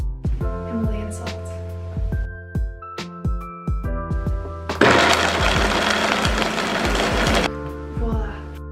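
A kitchen blender whirs through almonds, vanilla and Himalayan salt, with a loud grinding burst mid-clip set among clattering and tonal hums from the appliance.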